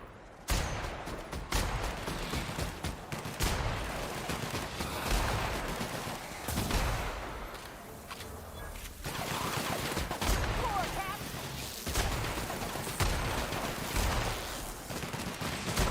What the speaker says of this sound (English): I'm shooting a swarm of bugs with a sniper rifle, and it's killing them all